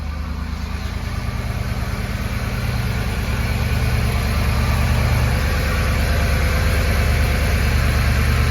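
A 2011 Ford F250 with the 6.2L engine idles steadily after an oil change, a continuous low rumble with an even pulse, close and loud with no talking.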